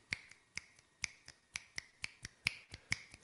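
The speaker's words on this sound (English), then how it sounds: "Fingers snapping" Fingers snapping steadily, about fourteen crisp close snaps in a regular alternating pattern, some accents slightly louder, heard alone in a quiet space.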